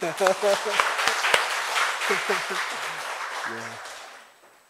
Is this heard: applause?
yes